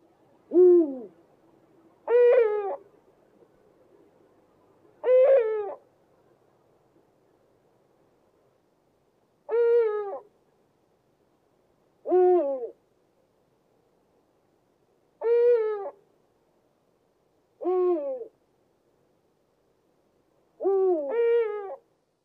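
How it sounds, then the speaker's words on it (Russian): Eagle owl hooting: eight separate deep hoots spaced a few seconds apart, fairly loud and clear against a quiet background. "Филин."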